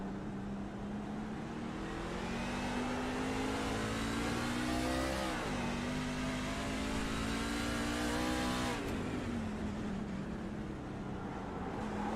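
A race car in a video game spins its wheels on the Daytona road course: a steady, loud engine roar that climbs and dips in pitch as the tires slip. The sound is continuous and close, with no voices.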